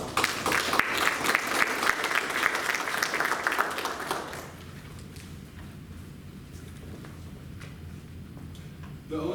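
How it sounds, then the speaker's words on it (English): Audience applause for volunteer staff at a veterans' graduation ceremony, a loud dense burst of clapping that fades out after about four seconds, leaving quieter room noise. "please give them a round of applause"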